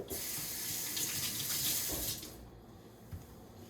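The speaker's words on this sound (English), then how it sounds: "Pour some vinegar on it, rinse it underneath the pipe." Tap water runs steadily over raw chicken being rinsed for Jamaican curry chicken, a close, loud gushing stream that cuts off after about two seconds, leaving faint handling sounds.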